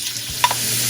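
Peppers (poblano, red and yellow) and onions hit hot extra virgin olive oil, giving a steady broadband sizzle with a brief stirring clatter near the middle, no talk.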